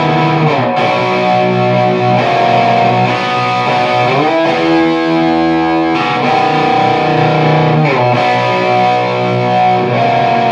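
Loud distorted electric guitar playing an outro chorus that eases slightly in tempo, thick sustained chords with effects, continuous and close with no talking.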